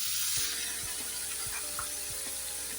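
Spices and onion paste with red chilli powder, turmeric and cumin sautéing in a frying pan, a constant bright sizzle with faint low rhythmic thumps of stirring underneath, close and steady throughout.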